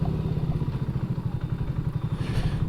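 An old BSA Gold Star motorcycle being ridden, its engine giving a steady, low, rhythmic thumping beat, close and continuous, with no talking.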